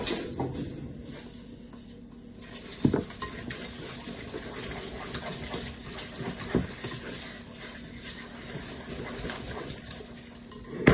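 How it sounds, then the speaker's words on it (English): An egg beaten into creamed butter and sugar with a wooden spoon in a bowl, a close, continuous thick stirring and scraping with a few sharper knocks against the bowl. "you're going to beat this in with your wooden spoon"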